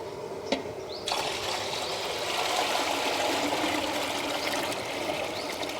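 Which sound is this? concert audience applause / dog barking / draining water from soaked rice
draining water from soaked rice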